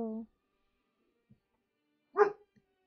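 A dog gives one sharp bark near the end of a quiet stretch, short and fairly close, after a brief voiced sound at the start.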